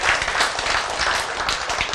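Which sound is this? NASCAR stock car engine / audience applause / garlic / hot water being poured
audience applause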